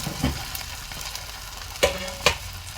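Breadfruit and shallots fry in a pan and are stirred, giving a soft steady sizzle broken by a few sharp spoon scrapes against the pan.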